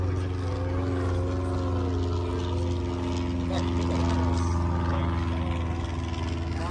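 A light propeller aircraft fitted with bush wheels drones steadily at an airshow, its engine hum continuous and moderately loud, while voices talk faintly in the background.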